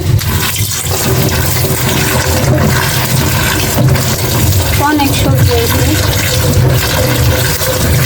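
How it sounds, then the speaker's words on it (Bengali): Tap water runs steadily into a kitchen sink while freshly cut pointed gourd and green papaya are rinsed, a loud, close, continuous splashing with small clatters and faint voices in the background. "সব কিছু গুছগাছ করে নেগে আমি সবজিটা ধুয়ে নই"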